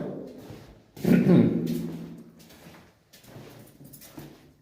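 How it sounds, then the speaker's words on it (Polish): A door opened in a building during a frosty pre-dawn visit to cats, a short scraping slide and thud up close, followed by quieter rustling. "Otwieramy drzwi."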